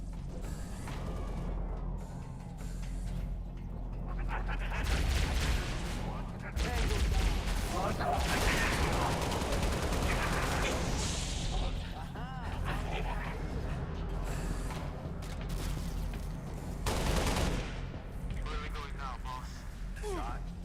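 Gunfire in a Halo video game: sustained, dense shooting and creaking mechanical clatter under a loud battle din, with voices talking over it throughout.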